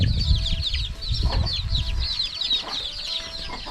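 Several chickens cluck and chatter together at a farmyard, a steady overlapping stream of short calls kept up throughout, fairly close, with low rumbling background noise beneath.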